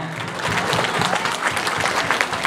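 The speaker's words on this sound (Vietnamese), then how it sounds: "Xin tất cả quý vị một tràng pháo tay thật lớn nữa để chào mừng ba hoa hậu áo dài miền Bắc California" An audience at a community gala in San Jose claps loudly and steadily to welcome three áo dài pageant queens, dense sustained applause from a crowd with no speech.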